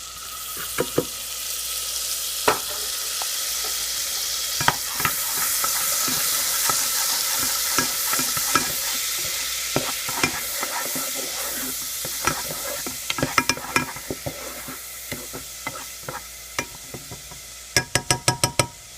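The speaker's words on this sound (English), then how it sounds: "add garlic and saute 30 seconds" Garlic sizzles steadily in a hot pan while a utensil stirs and scrapes it, with frequent knocks and clicks against the pan, loudest in a quick run of taps near the end.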